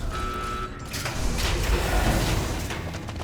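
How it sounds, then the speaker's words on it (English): A self-destruct alarm blares in Fallout: New Vegas as a steady, loud mechanical drone with a high tonal whine, layered over rumbling low noise and game ambience. "You hear a self-destruct alarm going"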